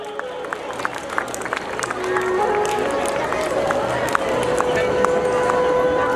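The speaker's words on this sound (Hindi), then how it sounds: "एक बार जोरदार तालियां" Audience applause at a school annual function in a hall, steady clapping building after the first couple of seconds and holding loud to the end, with a voice talking over it.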